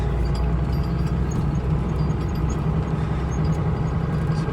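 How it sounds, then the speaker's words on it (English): A truck's 12-valve Cummins diesel engine idles steadily and loudly at close range, giving a constant low rumble with no pauses and no talking over it. "this is officially the last time this truck's gonna be running"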